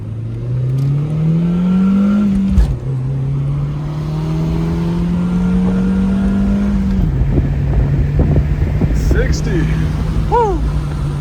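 An Audi B5 car accelerates hard, the engine note rising through the gears with clear shift drops. It is loud and close, and a voice is heard briefly near the end.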